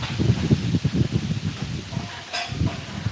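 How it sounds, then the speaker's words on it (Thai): Strong wind blowing around a chicken farm's control cabinet ahead of rain, loud gusty rushing with heavy low buffeting on the microphone, easing briefly midway before picking up again, with no voices. "อันนี้ลมแรงมากเลยค่ะ"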